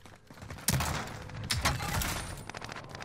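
Gunfire in a French duo battle-royale shooter match, with an MP7 in play: a sharp burst lands near the start, then scattered shots and rattling volleys continue at moderate loudness, with faint talk underneath.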